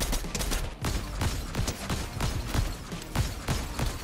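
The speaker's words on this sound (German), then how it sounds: "Oder irgendwo aus der Richtung schießen die zumindest." Rapid gunfire from enemies in Fortnite, a fast string of sharp shots and bursts repeating every fraction of a second, fairly close and loud, with no speech over it.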